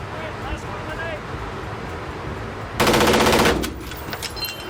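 Full-auto AR-15 rifle firing a rapid burst of about a second, loud and dense against an outdoor background with faint voices before it.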